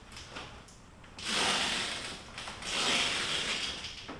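A BesTop EZ Roll tonneau cover on a pickup bed unlatching and rolling up, heard as a close mechanical click followed by two swelling sliding, rustling sweeps of the rolling cover, with no talk.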